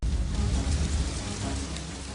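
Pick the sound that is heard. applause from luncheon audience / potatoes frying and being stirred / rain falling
rain falling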